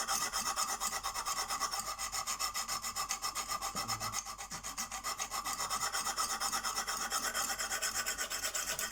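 A CK Viper knife blade is stroked repeatedly across a Lansky sharpening stone, giving a fast, even train of close rasping scrapes that runs without pause.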